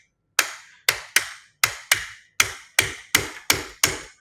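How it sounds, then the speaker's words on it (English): A hammer taps sharply nine times at a surgical workshop, each strike a crisp isolated knock in an uneven rhythm, close and clear with nothing behind it. "I see people hammering this way."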